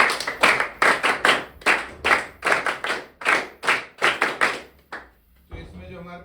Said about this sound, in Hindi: तो जो सफल हुए हैं उन कैडेट्स के नाम पर तालियां